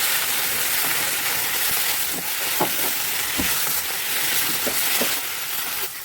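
Mushrooms frying in a pan for chicken chow mein give a steady, loud sizzling hiss throughout, with soft scattered pops and clinks of stirring, no voice over it.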